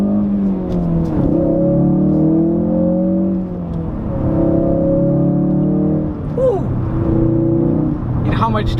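A 2017 Ford Focus RS turbocharged engine accelerating under power, a steady rising engine drone with harmonic layers that climb and reset between gear pulls, heard from inside the cabin with people talking over it.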